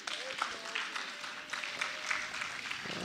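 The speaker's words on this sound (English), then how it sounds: "That's where the claps are coming from." Scattered spectators clap for a good shot during a high school girls' curling match between Portage and Lodi, steady broadband patter over arena ambience.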